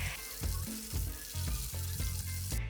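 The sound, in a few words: egg-coated risoles frying in bubbling oil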